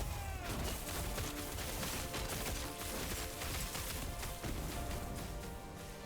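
Dense, continuous burst of explosive spell impacts and clashing combat effects from the action RPG Last Epoch, loud and steady throughout with layered crackles and booms.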